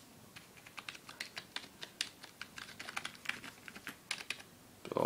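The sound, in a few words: typing on a Medion computer keyboard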